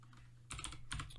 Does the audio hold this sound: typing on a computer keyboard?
yes